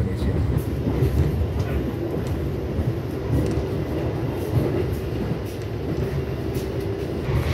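Gajayana executive passenger train rolling along rails on the southern line from Cirebon toward Purwokerto, Kroya and Yogyakarta, a steady loud low rumble with faint wheel clatter heard from inside the carriage, continuous throughout.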